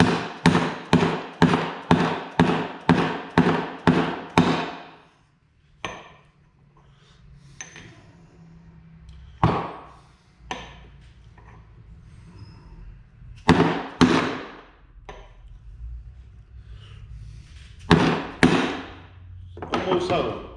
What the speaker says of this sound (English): Now, drive this bearing back on.